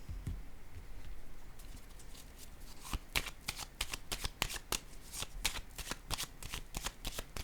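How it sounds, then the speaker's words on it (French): Tarot-style cards are placed and shuffled during a card reading: a soft papery rustle first, then a rapid run of crisp riffling snaps, quiet and close with no talk. "Je vais déposer une autre carte."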